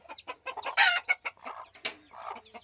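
Pet hens and their chicks cluck close by in a rapid, overlapping run of short calls, one sharper squawk standing out near the middle, with no talking.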